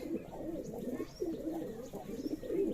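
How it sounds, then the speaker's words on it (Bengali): Rajshahi Giribaz pigeons in a loft give low, soft, repeated cooing, a steady overlapping murmur of calls at moderate distance. "প্রতিদিনের মতোই আমি কবুতরগুলো দেখাচ্ছি"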